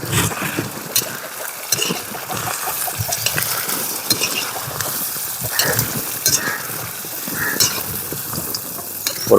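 Chicken chukka cooks in sesame oil in a pan with a steady close sizzle, broken by scraping and clinking as it is stirred. No one speaks.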